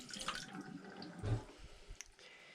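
Water draining out of a jar of sprouting seeds through a mesh screen lid, a close trickle and splash with drips and a gurgle midway.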